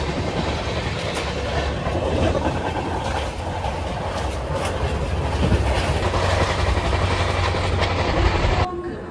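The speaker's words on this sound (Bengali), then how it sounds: "আমরা এবার বর্ধমান রেলওয়ে স্টেশনে প্রবেশ করতে চলেছি" The 12337 Shantiniketan Express rolls into Bardhaman station, a loud, continuous rumble of wheels and wagons with rhythmic clatter, heard from on board, before cutting off abruptly near the end.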